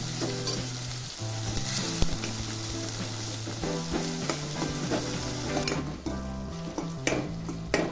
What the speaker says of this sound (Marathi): आता टमाटर चांगला शिजवून घ्यायचा आहे. थोडा मऊ झाला पाहिजे.